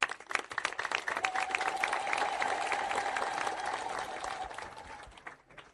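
A crowd at a sermon gathering bursts into dense applause, many hands clapping together loudly and steadily for several seconds before tapering off, with a faint voice briefly over it.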